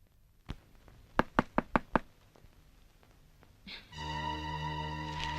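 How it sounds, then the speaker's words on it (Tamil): Knocking on a door in a Tamil film scene: a single rap, then a quick run of five sharp knocks, followed by a loud sustained tonal sound near the end. "அவ அங்க கதவை தட்டிட்டு இருக்கா"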